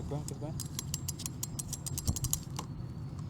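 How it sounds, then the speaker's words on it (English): A BMX bike chain being turned backward over the gears during a tire replacement gives a run of quick metallic clicks and light rattles, close by, with background noise and voices now and then. "Put the chain on the gears. Okay, opposite, rotate it backward."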